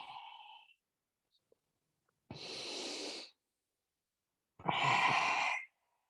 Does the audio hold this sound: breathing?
yes